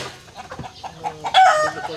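Chickens cluck and squawk in short bursts on a Cebu poultry farm, close and fairly loud, with a brief sharper call near the middle.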